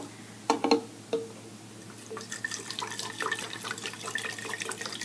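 Acetone being poured into a bottle, a trickling liquid stream that starts after a few sharp clinks and continues steadily at close range, with no talking.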